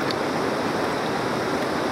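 Water pouring down at a waterfall where people bathe, a dense, steady rushing roar that stays constant and close, with no voices.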